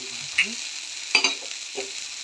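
Food roasting in plenty of hot oil like a fish roast, a quiet sizzle close up, broken by a few brief crackles and scraping stirs.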